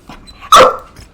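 A single loud, close dog bark indoors, one sharp bow-wow preceded by soft faint sounds, heard alone without talk.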